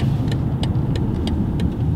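A 2020 BMW X5 xDrive 45e hybrid SUV accelerating, heard from inside as a steady low drivetrain hum with road rumble and a faint rhythmic ticking, loud and continuous without talk.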